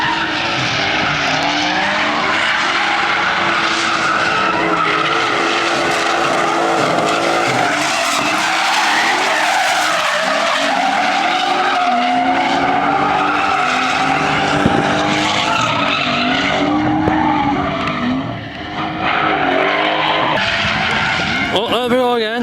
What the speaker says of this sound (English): Oh, there we go again, spin out.